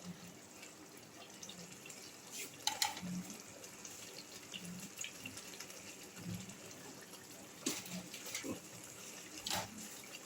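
Egg curry gravy boils in a pot with a steady, fairly quiet bubbling and hiss, broken by a few louder pops and clinks throughout.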